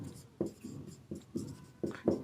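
Marker or chalk writing on a board during a physics lecture on gravitation: repeated short scratchy strokes in bursts, close and clear, with no talk over them.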